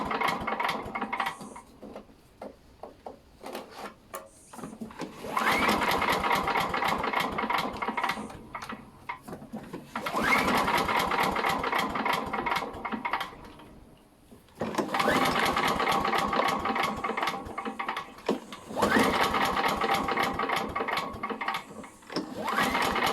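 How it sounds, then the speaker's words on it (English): A Talon Mach 460 small engine with a repaired pull starter is cranked repeatedly without catching, giving several bursts of rapid mechanical chatter separated by pauses. "we try if we can start the engine"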